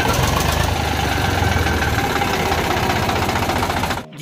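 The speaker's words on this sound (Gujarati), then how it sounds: "ટ્રેક્ટરનો એન્જિન વોઇસ પણ તમે વિડીયોમાં સાંભળી શકો છો." A 2013 Eicher 368 tractor engine runs steadily and loudly up close with a dense, even chugging, cutting off abruptly near the end.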